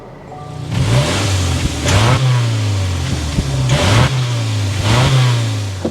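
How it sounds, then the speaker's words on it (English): A 2024 Subaru Outback Touring's 2.5-liter Boxer engine starts and is revved several times, its exhaust note rising and falling in repeated close, loud bursts over a steady idle. "start it up so you can hear that exhaust note"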